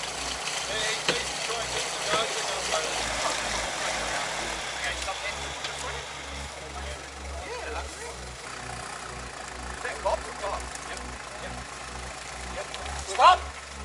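Land Rover Discovery D1 engine idling with a low, steady pulsing throb, close and continuous, while someone talks over it.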